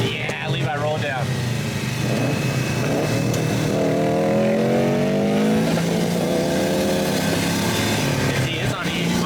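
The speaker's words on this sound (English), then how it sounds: "Give him a rev, dude." A BMW E46 with an LS engine swap revs loudly nearby, its pitch climbing in sweeping bursts under a steady road roar, while people talk over it in the cabin.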